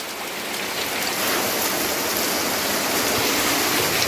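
Steady heavy rain, a continuous dense hiss of drops falling on surfaces, with no voices.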